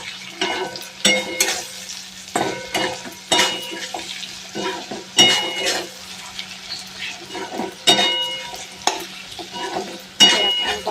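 Chorchori in a pan is stirred after sugar goes in: a spoon scrapes and knocks against the metal in repeated bursts over a steady low sizzle of frying, close and fairly loud.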